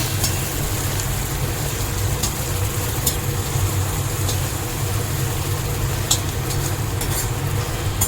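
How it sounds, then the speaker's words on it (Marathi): Two medium chopped onions fry in a pan after curry leaves, making a steady, dense sizzle with occasional small crackles throughout, alone with no voices. "कांदा आपल्याला छान परतून घ्यायचा आहे।"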